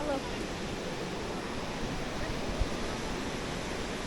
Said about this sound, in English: But this is a waterfall here. It's quite going quite well today.